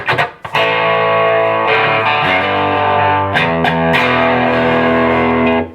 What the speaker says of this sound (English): I have the distortion on this up, the preamp volume, about 3/4